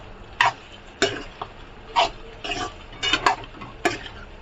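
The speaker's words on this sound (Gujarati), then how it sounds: "આને એકદમ વ્યવસ્થિત હલાવી લઈશું" Boiled potato and soaked sabudana are stirred in a pan for khichdi, giving about eight separate scraping and clinking strokes of a spoon against the pan, close by and moderately loud.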